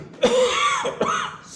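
Two short, rough coughs in quick succession from a man giving a spiritual talk, close and fairly loud, with nothing else around them.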